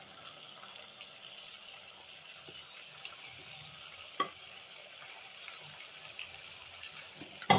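Soft, steady frying sizzle of squid with onions in a pan, with occasional clinks and scrapes of stirring, fairly quiet throughout.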